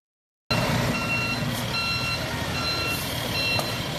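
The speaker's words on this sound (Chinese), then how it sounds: "大卡车准备转弯" A large truck's warning beeper sounds in short repeated electronic tones over a steady engine rumble as the truck prepares to turn, during a blind-spot road-safety demonstration at a high school in Hsinchu, Taiwan.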